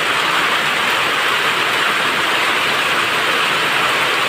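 Heavy typhoon rain and rushing floodwater on a street, a dense steady roar of downpour and flowing water, loud and continuous with no break.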